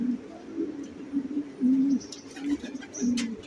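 Racing pigeons coo repeatedly in a loft, low rolling calls coming in a steady series of close, fairly loud phrases, with a few faint chirps and rustles behind them.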